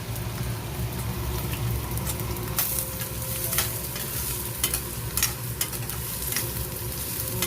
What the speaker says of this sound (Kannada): ಈರುಳ್ಳಿ ಹಾಕಿದ್ದೀನಿ, ಒಂದೇ ಹಸಿಮೆಣಸಿನ್ಕಾಯಿ, ಅದು ಹಸಿಮೆಣಸಿನ್ಕಾಯಿ ಹಾಕಿ ಫ್ರೈ ಮಾಡ್ತಾಯಿದ್ದೀನಿ